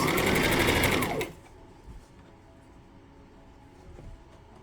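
A sewing machine stitches a flare skirt in a loud fast whirring burst lasting about a second, then stops, leaving quiet room noise and faint handling sounds.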